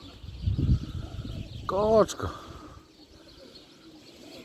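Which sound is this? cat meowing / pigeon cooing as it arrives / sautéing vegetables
pigeon cooing as it arrives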